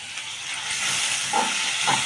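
Soaked chana dal and cumin seeds hitting a hot pan, giving a bright, steady sizzling hiss that swells after a moment, with a couple of brief sharper spits near the end and no voices.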